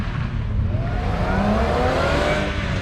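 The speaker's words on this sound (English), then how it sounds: "See the launch of the Lotus." A Lotus race car launches at a mountain race, its engine loud and steady as it accelerates with rising revs, heard close with no talk over it.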